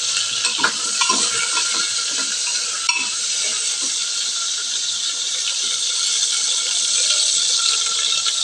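Potato pieces coated in salt and turmeric fry one by one in hot oil with a loud, constant sizzle, punctuated by light clicks and scrapes of a utensil stirring in the pan.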